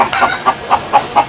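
Chickens cluck close by in a steady run of five or six evenly spaced clucks over a little more than a second.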